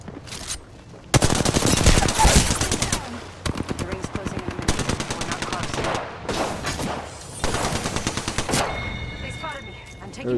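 Bursts of automatic gunfire in a battle royale video game, loud and close, with rapid volleys and single shots repeating across the clip and brief pauses between them.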